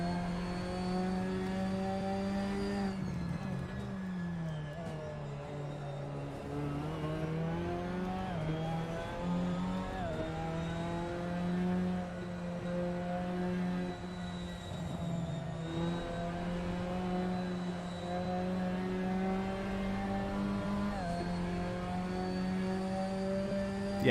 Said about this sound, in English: you're on the rev limiter by the time you get to the kink